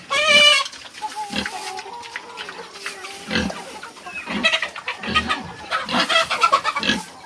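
Farmyard animals, with pig grunts and squeals mixed among rooster crows and clucking chickens, heard close and loud in bursts across the stretch, with faint voices nearby.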